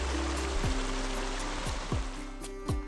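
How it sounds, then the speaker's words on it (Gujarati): A mountain stream pours into Lake Louise at its inlet in Banff, with a steady, close rush of running water and no voices. "આ એના ઇનલેટ છે, જ્યાંથી આ તળાવ ઉપર જે પહાડનું પાણી ઝરણા સ્વરૂપે આવીને આ તળાવમાં પડે છે"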